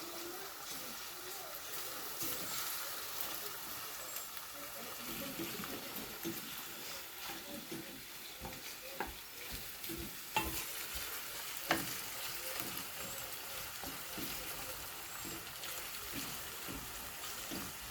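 Food cooked with tomato paste sautés and sizzles in a pan in a village kitchen, a steady low crackle with scattered stirring clinks and scrapes throughout.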